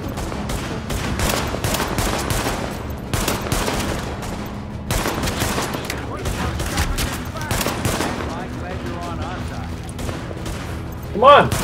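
Rapid, dense bursts of gunfire from the shooter game Tom Clancy's The Division, loud and nearly continuous with overlapping automatic volleys, while a player talks over the action.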